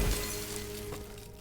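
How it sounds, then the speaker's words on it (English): Crystal shatters in the game Thymesia, a quick faint burst of breaking at the start that trails off into a soft ringing tail over low game ambience. "Just crystal shattering?"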